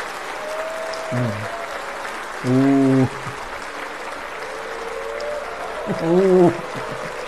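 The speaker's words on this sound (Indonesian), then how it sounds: "Ya, yang tepuk tangan ada." Scattered, moderate clapping rises in the Indonesian parliament chamber during an inauguration session, running as a steady bed beneath several short bursts of a speaking voice.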